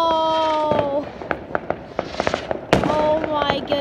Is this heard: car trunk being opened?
no